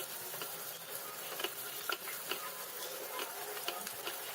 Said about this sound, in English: We're going to fry the onion till it's nice and translucent.